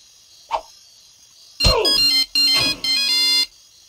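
Telephone ringing in the online video game Russian Roulette: Online: a brief chirp, then three loud electronic ring bursts in steady succession, up close with no talk.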